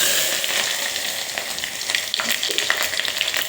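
Chopped onions sizzle and crackle in hot oil while chicken is being cooked, a loud, close, continuous frying hiss with scattered pops and faint stirring.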